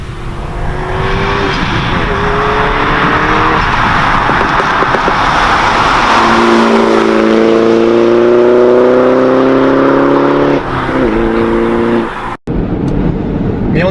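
A Mini Cooper S JCW with the 211 hp pack drives along, its engine droning loud and close from inside the car as it revs up through the gears, the exhaust rasping with shifting engine tones throughout.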